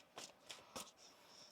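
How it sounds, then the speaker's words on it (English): A deck of tarot cards being shuffled by hand in a quiet room, three short riffling bursts spaced about a third of a second apart, soft and close with no talking. "One more shuffle here."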